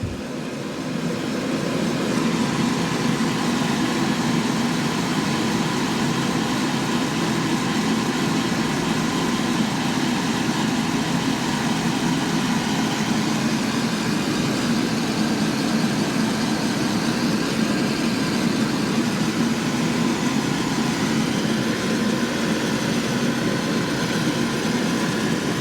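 A laser engraving machine cuts into the left side of a gun, producing a loud, steady mechanical drone and hum that runs unbroken for the whole stretch, with no talk over it.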